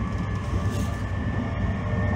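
A Joban Line E531 series electric train, set K423, runs between Ushiku and Ishioka. It gives a steady, close, continuous rumble of wheels and motor throughout, with no voices.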